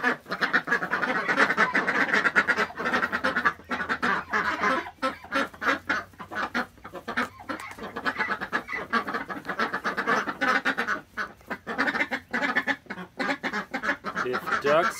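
Ducks in the morning quacking loudly and continuously near at hand, a busy overlapping chorus of honking calls that barely pauses.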